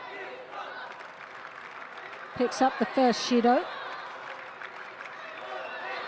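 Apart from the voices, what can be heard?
judo arena crowd cheering and clapping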